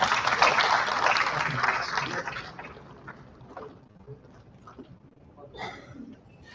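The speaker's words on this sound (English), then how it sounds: "A big round of applause for sir." Conference audience applause, dense at first and tapering off after about three seconds into sparse claps, with faint voices and a brief burst near the end.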